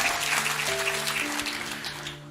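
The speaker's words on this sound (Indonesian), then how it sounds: "Beri tepuk tangan untuk kebenaran ini." Applause from a church congregation during a sermon, a broad steady patter of clapping that slowly thins and fades, with sustained organ or keyboard tones held underneath.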